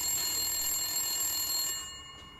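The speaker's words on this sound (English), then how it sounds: "A couple of minutes go by when yet another phone starts to ring." A telephone rings with a steady, bright electronic trill that carries on alone for about two seconds and then fades slightly, with no talking over it.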